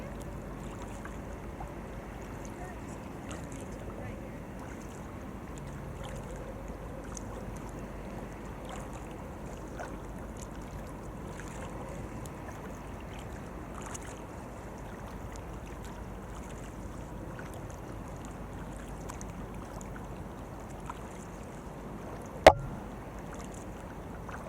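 Kayaks or canoes on the Susquehanna River move through water with soft, faint paddling and gentle water sounds under light wind, plus one brief sharp knock near the end.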